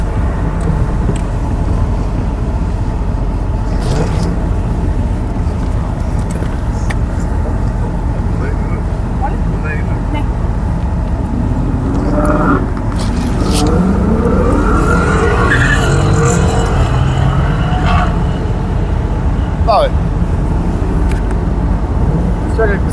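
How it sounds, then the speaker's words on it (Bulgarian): A Jeep SRT or Hellcat launches down the strip at an American muscle car drag day. Heavy engine roar and revving go on throughout, with tyre noise, a rising pass in the middle and people talking over it. "Мисля, че това беше SRT. Нека си ми тръгна като Hellcat, джипа."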